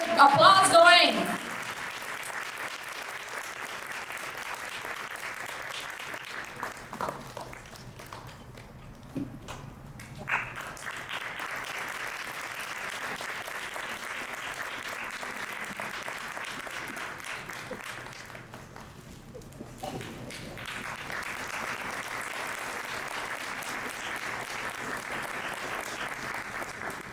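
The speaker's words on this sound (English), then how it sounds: "Let's keep the applause going." Sustained audience applause at a women empowerment conference in Edmonton, Alberta, continuous clapping from a seated crowd that dips briefly and resumes, with a presenter talking over parts of it.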